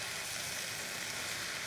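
Stir-fry noodles sauté in a pan, giving a soft, even sizzle that hisses steadily and faintly without a break.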